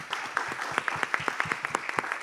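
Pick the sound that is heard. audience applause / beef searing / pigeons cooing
audience applause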